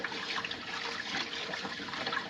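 Fish being washed in water: continuous splashing and trickling water, close and moderately loud, with small irregular swishes as the fish is rinsed.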